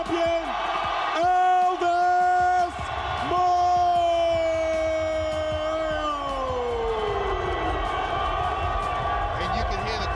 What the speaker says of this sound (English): you can hear the crowd right there